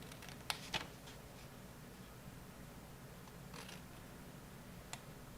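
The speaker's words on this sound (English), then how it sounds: "I'm using my paper snips." Paper snips cutting along the score lines of cardstock for a tear-away heart box give a few faint, crisp snips, spaced apart over a quiet room background.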